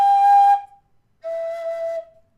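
Two clear whistle notes, each held about half a second to a second with a short gap between, the second slightly lower and softer.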